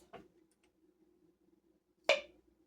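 A one-piece canning lid pops open: a single sharp metallic pop rings out once, close and clear, after a faint click, with a quiet hum running underneath.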